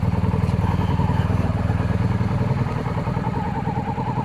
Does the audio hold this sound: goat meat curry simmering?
no